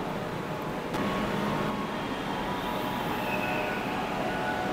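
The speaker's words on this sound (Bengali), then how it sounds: "এই মেট্রোটাই আবার রিভার্স অর্ডারে চলে যাবে আবার হাওড়ার দিকে।" A Kolkata metro train pulls out of Sector 5 station in Salt Lake with a continuous, even rumble and hum of wheels and motors that stays level throughout.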